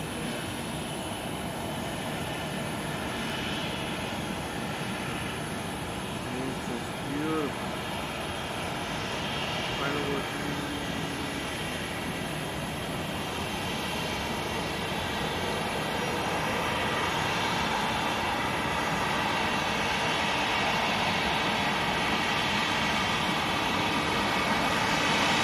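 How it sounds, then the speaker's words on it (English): A steady Boeing 737 jet engine roar at an airport holds at a constant level, loud and continuous, with faint voices now and then beneath it. "when they turn on the engine on 737,"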